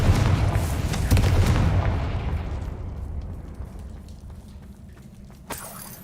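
A Confringo fire spell detonates in Hogwarts Legacy, a loud booming blast that rolls into a long decaying rumble, with a faint second pop near the end; no talking.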